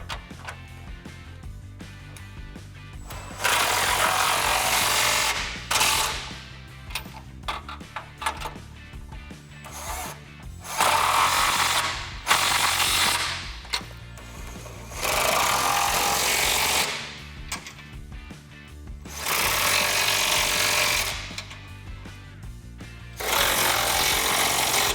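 A ratchet with an 18mm swivel socket tightens front bumper bolts on a Jeep Wrangler JL, fitting a forged aluminum bumper, sounding in several loud bursts of rapid clicking separated by short pauses.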